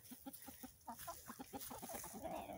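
Chickens cluck in quick, choppy bursts close by, a busy run of short clucks and squawks layered over one another.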